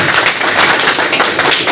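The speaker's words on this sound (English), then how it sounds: "Big round of applause." Short burst of audience applause welcoming a guest at a college workshop, dense, close and fairly loud clapping with no talk.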